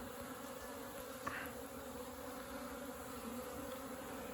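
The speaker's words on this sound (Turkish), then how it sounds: "Arı gördüğünüz gibi yavru uçurmaya devam ediyor." A steady, dense hum of many honey bees buzzing continuously at a hive, heard up close, with no voices.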